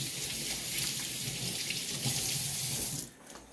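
A zucchini is rinsed under a kitchen faucet running steadily into a sink, a continuous close hiss of water that cuts off near the end, with no voices.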